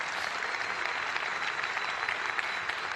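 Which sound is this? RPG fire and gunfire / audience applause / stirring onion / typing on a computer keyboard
audience applause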